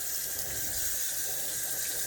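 Water runs steadily from a tap or watering can onto a thirsty rabbit foot fern, a continuous close hiss and splash lasting throughout with no voices.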